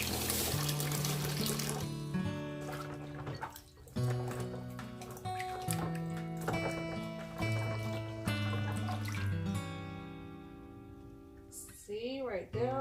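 Real pinecones rinsed under a running tap in a sink, a steady splash and trickle of water carrying on beneath music and a person's talk, with brief pauses in the flow.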